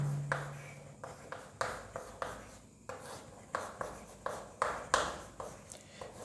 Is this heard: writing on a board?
yes